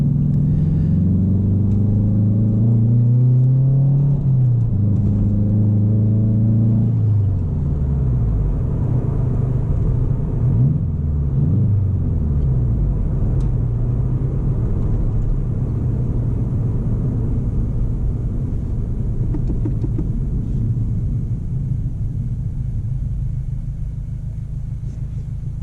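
A 2022 Subaru WRX with a JDMuscle UEL header, heard from inside while driving, gives a loud, steady low engine rumble, with rising and falling rev sweeps early on before settling into a constant drone.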